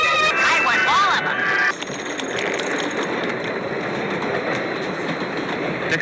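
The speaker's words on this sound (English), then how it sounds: "Actually, it's a Baldwin 284 S3 class Berkshire type steam locomotive." A Baldwin 2-8-4 S3 class Berkshire steam locomotive runs with a loud, steady mechanical rumble and clatter. A whistle-like tonal sound and a voice briefly overlap at the start.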